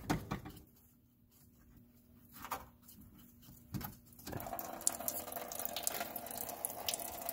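Coolant drains from the radiator of a 2009 Honda Fit after the drain plug is twisted open, a faint trickle at first that becomes a steady, splashing liquid stream, with a few clicks and knocks from handling.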